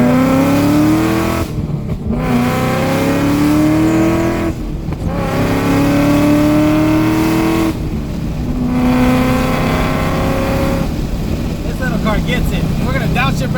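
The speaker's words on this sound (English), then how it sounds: "We're gonna downshift rev match." A built 2015–2017 Ford Mustang revs beside a wall during rev-matched downshifts: loud, close engine surges climb in pitch, then cut off briefly between shifts.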